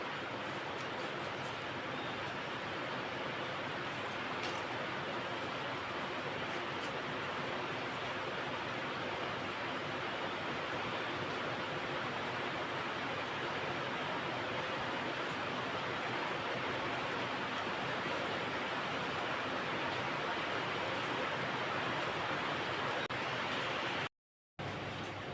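Steady, even rain falling as a dense broadband hiss that holds constant throughout, with a brief dropout near the end.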